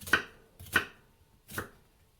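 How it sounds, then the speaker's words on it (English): A knife dices food on a cutting board with three distinct, crisp chops spaced a little under a second apart, close and clear against near silence. "If I'm dicing, I like to go this way first."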